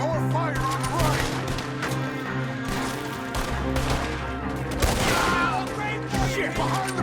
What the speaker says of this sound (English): more fire on the right!